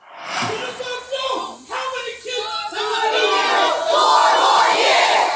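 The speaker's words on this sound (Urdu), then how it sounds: "اسرائیلی مظالم کے خلاف شدید نعرے بازی کرنے والوں نے بائیڈن کے لیے نئی مشکلیں پیدا کر دی ہیں" Protesters chanting slogans against Israeli atrocities, a loud crowd shouting in rhythmic bursts that swell into a sustained roar of yelling voices.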